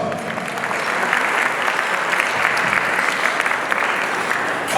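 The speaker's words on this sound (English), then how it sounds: "let's give her a round of applause." At a heritage association gala, a sizeable audience claps in sustained, even applause that holds at a steady level for nearly five seconds without any voices.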